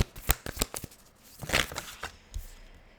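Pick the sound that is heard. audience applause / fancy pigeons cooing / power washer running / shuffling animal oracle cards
shuffling animal oracle cards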